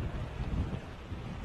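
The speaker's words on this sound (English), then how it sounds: "it looks like the wind is picking up even more now" Strong Hurricane Irma wind gusts batter Florida as a low, rumbling roar buffets the microphone, steady and heavy throughout with no voices.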